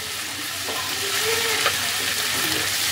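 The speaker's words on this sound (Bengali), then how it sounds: "এবার সমস্ত সবজিগুলোকে তেলের মধ্যে খানিকক্ষণ ফ্রাই করব" Onion and capsicum sizzle steadily in hot oil in a pan, a loud continuous frying hiss with faint stirring scrapes, no voices.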